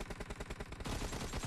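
Rapid video-game gunfire in a team deathmatch: a quick rhythmic string of close automatic shots, then a denser, louder burst of overlapping fire toward the end.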